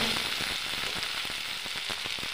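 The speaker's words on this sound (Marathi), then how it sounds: "आलू मिरच्या भाजल्यानंतर टोमॅटो टाकायचा, व्यवस्थित भाजू द्यायचा." Diced tomatoes fry in a pan of potatoes and chillies for sabudana khichdi, giving a steady, close, hissing sizzle with soft stirring ticks throughout and no talk.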